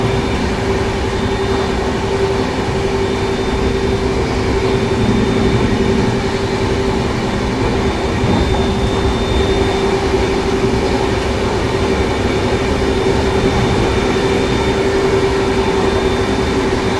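The 12324 Barmer Howrah SF Express runs through the night near Dhanbad, a loud, unbroken rumble of wheels and carriages with a steady hum and no talking.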